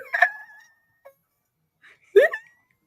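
Human voice imitating a parrot's alarm call, two short harsh squawking bursts separated by a pause, close and fairly loud against silence.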